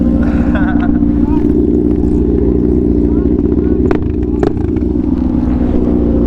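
A stunted Suzuki DRZ motorcycle engine runs steadily and loudly on a test ride, with a constant close rumble and a couple of brief sharper bursts partway through.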